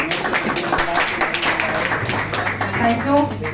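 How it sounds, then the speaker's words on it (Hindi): An audience at a press club gathering with singers claps in a quick burst of scattered hand strikes, with a voice speaking over the applause. "तालियां तालियां तालियां।"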